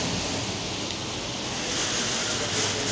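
Cyclone Dana lashing a house in Odisha with wind and rain, a dense, unbroken roaring rush that holds steady for the whole stretch, heard from indoors with no voices.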